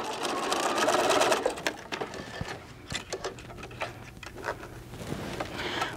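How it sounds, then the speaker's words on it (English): A sewing machine runs steadily with a fast mechanical patter, close by, easing off and slowing in spurts toward the end. "at the sewing machine, stitch my edges together"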